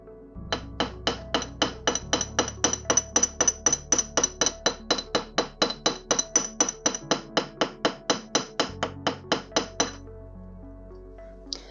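A hammer strikes wire to flatten it for a wire-wrapped pendant, around thirty-five sharp metallic taps in a quick, even rhythm, close and clear with ringing clinks.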